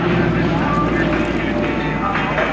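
Harvard training aircraft with 600 horsepower Pratt & Whitney radial engines fly at a military airshow, a steady droning engine hum running under an announcer's continuous commentary.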